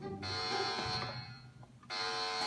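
A hotel bomb alarm sounds as a harsh, buzzing electronic tone, loud and continuous, cutting out briefly near the middle before blaring again.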